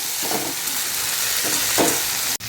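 Spiced fish egg fry sizzles in a pan, a steady hiss broken by a few soft scraping stirs, with no talking.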